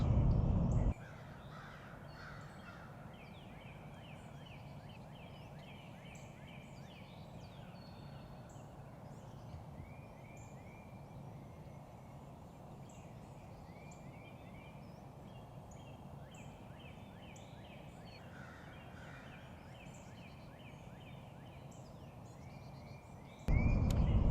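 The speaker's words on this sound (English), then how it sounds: "Looks like we got two hens." Two wild turkey hens calling faintly in the distance in Georgia, a series of soft repeated yelps and clucks over quiet outdoor background.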